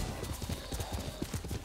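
A horse gallops in the video game Ghost of Tsushima, its hooves making a steady, rapid clip-clop under dense ambient noise. There is no talk over the hoofbeats.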